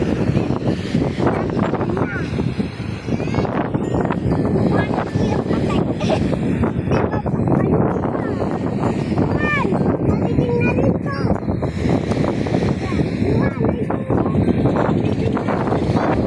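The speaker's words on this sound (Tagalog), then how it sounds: "Lakas ng alon." Strong waves surge and crash nearby along a shore, a heavy, continuous roar blended with gusting wind buffeting the microphone, while people talk over it now and then.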